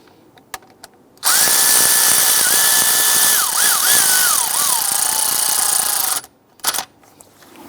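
Power tool driving and tightening the idler pulley bolt on a 2011-2021 Jeep Grand Cherokee, a loud close whine lasting about five seconds that bogs down in pitch as the bolt seats, then short blips.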